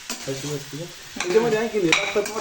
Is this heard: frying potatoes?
yes